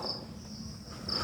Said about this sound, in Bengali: চারিদিকে শুধু ঝিঝি পোকার ডাক